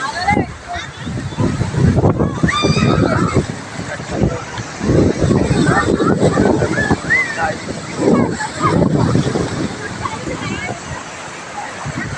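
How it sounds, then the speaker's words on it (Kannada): Gentle sea waves wash and slosh continuously along Murdeshwar beach, with wind buffeting the microphone and voices talking over the surf throughout. "ಅಲೆಗಳು ಅಷ್ಟೇನು ರಭಸವಾಗಿಲ್ಲ."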